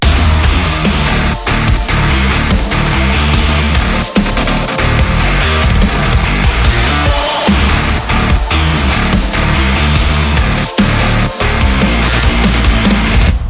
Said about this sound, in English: Do you want your guitar tone to sound like this?